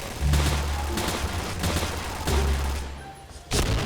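Rapid bursts of gunfire ring out in the shooter game Point Blank during a free-for-all match, loud and sustained with short gaps, a final sharp volley near the end, no speech.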